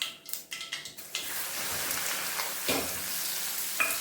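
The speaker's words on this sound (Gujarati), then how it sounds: "ભીંડાને થોડા ધીમા ગેસે સાતળીશું" Okra sautéing in a pan with mustard seeds, a steady close sizzle with a few stirring scrapes at the start and a brief clink near the end.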